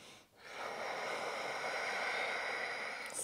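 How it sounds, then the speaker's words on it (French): One long, deep inhalation through the nose during a yoga flow, close and breathy, rising and holding steadily for about three seconds in a quiet room. "Encore une grande respiration."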